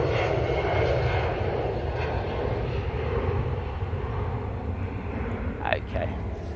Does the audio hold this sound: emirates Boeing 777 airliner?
yes